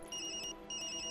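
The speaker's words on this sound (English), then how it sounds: "That's my phone." A mobile phone ringtone in the video game Tokyo Dark plays as two bright electronic ringing bursts separated by a short gap, clear and close with no talking.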